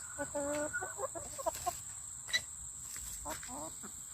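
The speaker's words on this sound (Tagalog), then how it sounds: "Hi, chicken!" Chickens at a farm cluck in short, irregular bursts close by, one red and one black bird, with a faint steady insect-like hiss in the background and a voice speaking briefly.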